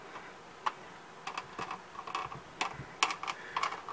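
Light scratching clicks and short scraping strokes of a scribing tool on a hard plastic model kit, irregular and fairly close, with no talking.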